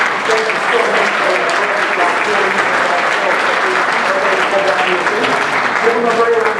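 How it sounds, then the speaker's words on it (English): A theatre audience at the 2019 Atlanta Magic Spectacular, a stage magic show, gives sustained applause for a volunteer. The clapping is full and continuous, and scattered voices rise underneath it. "give them a great round of applause"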